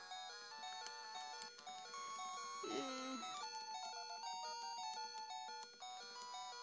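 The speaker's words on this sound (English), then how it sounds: "I'm trying to stop the beeping." Low-health alarm beeping from the Pokemon Yellow game, repeating steadily throughout alongside chiptune battle music with a brief descending sound effect partway through, no talking.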